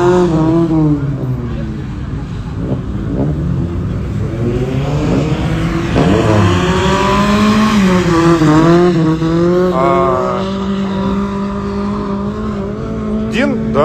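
A car running a winter gymkhana training course revs hard and rises and falls in pitch with a tire squeal. It is loud and continuous, with people talking over the engine.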